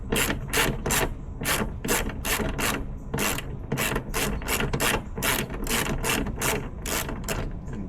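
A ratchet wrench loosens the hood bolts on a 2024 Cadillac CT5-V Blackwing, giving a steady run of close, crisp clicks in an even rhythm.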